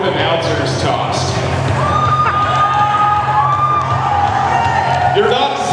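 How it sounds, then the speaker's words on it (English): A roller derby crowd cheers, claps and shouts loudly throughout, a dense, steady wash of noise with high calls and whistles. A voice speaks over it. "You're not supposed to applaud that."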